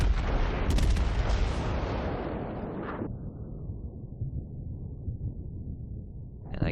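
A battleship's main guns fire at a destroyer in a naval combat game, opening with a heavy, rumbling blast that slowly fades into a long, low roar, followed by a faint rising whine at the end.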